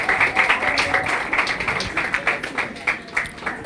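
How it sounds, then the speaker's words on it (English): An audience claps for a panelist in a steady, moderately loud burst of hand claps that keeps a fairly even rhythm from start to finish, with a voice underneath. "Please clap, clap,"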